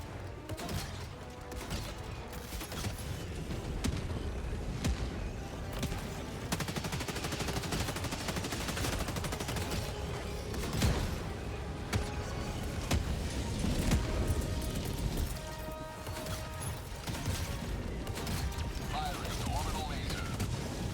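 Mortar sentry firing in a video game, a busy barrage of booming shots and crashing impacts layered with game noise for about twenty seconds, while a voice talks over much of it.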